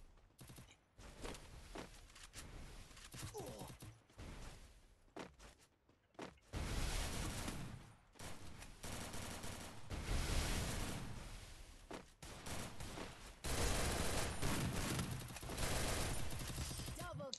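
Free Fire battle royale gunfire: repeated bursts of automatic fire alternate with short pauses over the whole stretch, loud and close, with dense combat noise.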